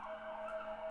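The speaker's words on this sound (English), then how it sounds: "Sorry about the sirens again." A steady, fairly quiet siren tone holds throughout, with a sustained wail sitting in the midrange and no voices.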